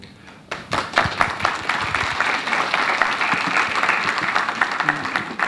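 An audience at a Global Malaysia Series talk applauds, a dense burst of clapping that starts suddenly and holds steady for several seconds in the hall.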